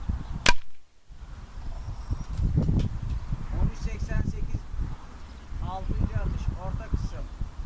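Hatsan AT44 PCP air rifle firing, with a single sharp crack near the start followed by rustling and outdoor movement under people talking.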